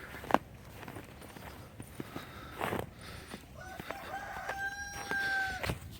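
Chickens in a backyard pen, a rooster crowing in long drawn-out calls near the end among scattered clucks, rustles and footstep-like thuds, moderately close and fairly quiet.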